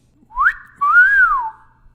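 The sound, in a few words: crude whistle sound effect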